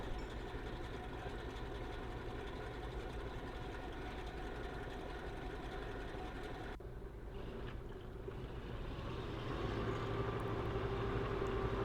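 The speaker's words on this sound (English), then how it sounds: "This thing never runs smoothly for some reason. And I think it's the new Swedish engine we have in there" Heavy engine of a military vehicle, a tank fitted with a new Swedish engine, idling roughly at a show, a continuous loud low rumble that steadies and then shifts tone partway through.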